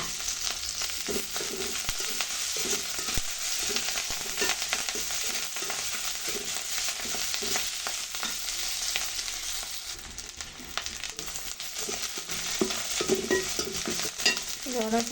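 Dried red chillies and curry leaves sizzle and crackle in hot oil for a drumstick and jackfruit-seed curry, a loud continuous frying hiss broken by close spoon stirring and scraping, with no talk.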